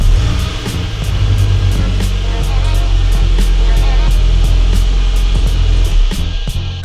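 A VW GTI running after a Stage 1 flash with an Integrated Engineering intake gives a loud, steady engine drone with a rapid ticking pulse on top, close by and without talk.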